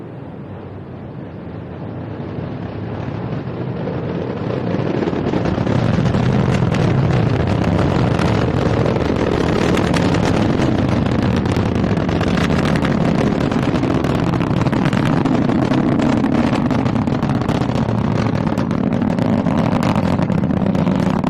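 A SpaceX Falcon 9 rocket launching a Starlink mission roars from close range, rising from a low rumble over the first few seconds into a sustained, loud, crackling thunder that holds steady.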